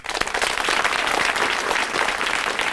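Students clap in a dense, steady burst of applause at a college freshers music show, filling the hall at close range without a break.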